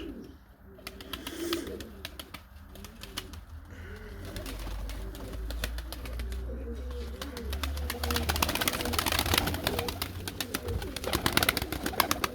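Young homing pigeons coo and flutter nearby over a steady low rumble as they take off and land, with wingbeats and rustling growing busier toward the end.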